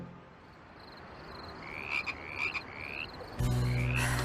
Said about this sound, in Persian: قورباغه ها؟ آره قورباغه ها.